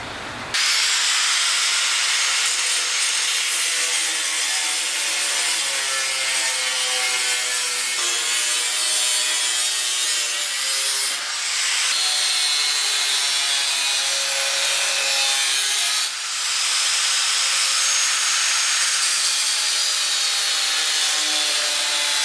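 Metal plates for a tube-frame car's chassis rails are cut with a power saw or grinder, giving a loud, sustained, close-up high-pitched whine and rasp that runs for over twenty seconds with brief dips between passes.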